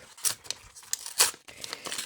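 Quick crinkly tearing of a small plastic packet, a few short rips and rustles close up.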